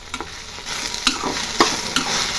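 Chillies being stirred into okra frying in a pan: close, steady sizzling broken by several sharp scraping stirs at an irregular pace, with no talk.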